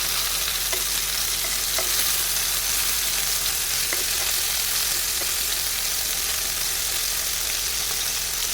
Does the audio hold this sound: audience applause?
no